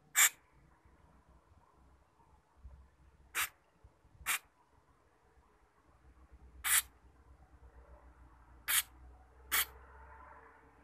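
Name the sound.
spraying carburetor cleaner on a motorcycle carburetor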